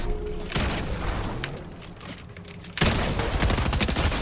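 Gunfire in the Fortnite battle royale game, bursts of shots loud and close, with a short quieter gap before a heavier volley resumes near the end.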